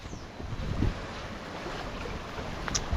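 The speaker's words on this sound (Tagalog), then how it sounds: "Lakas pa naman ang dagat." Strong wind and rough sea during monsoon winds at a coastal spot, a steady broadband roar of wind buffeting the microphone over surging waves, with no talking.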